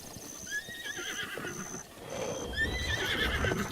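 A horse in The Legend of Zelda: Breath of the Wild gives two whinnies, one early and one later, over faint hoof clip-clops and a steady ambient background.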